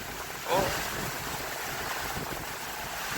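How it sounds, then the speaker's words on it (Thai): Storm wind and rain during a typhoon in Taiwan, a constant broadband rushing roar with a brief louder gust, steady and close to the microphone with no clear speech. "ทั้งลมทั้งฝนนะครับพี่น้องครับ"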